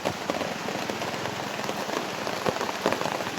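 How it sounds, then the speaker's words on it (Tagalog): Heavy rain pours down on someone sheltering under a banana tree, a dense, continuous hiss of drops striking leaves and surfaces, close and loud with scattered sharper splats and no talking. "Kasi malakas ng ulan."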